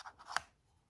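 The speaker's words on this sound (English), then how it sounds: "And then you're going to cut that little V at the top" Scissors snipping cardstock for a treat box, one short crisp cut close by after light rustling, then quiet.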